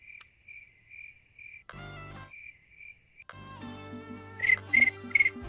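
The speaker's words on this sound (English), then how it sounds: "Crickets." Crickets chirp steadily through a night scene in a fishing video game, a repeating high trill in short pulses, broken by bursts of game music and tones, with sharper chirps near the end.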